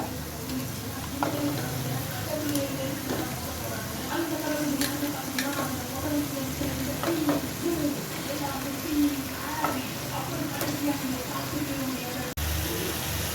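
Chicken pieces frying in a pan with well-sautéed masala and yogurt for a Seeraga samba chicken biryani, a steady close sizzle with scraping stirs and occasional clinks running throughout, with no voice over it.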